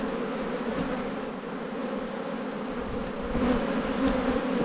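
Honeybees from a large spring colony hum in a dense, steady drone as the hive is opened for inspection, close and continuous, swelling slightly louder near the end, with no talking.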